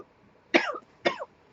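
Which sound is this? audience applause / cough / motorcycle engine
cough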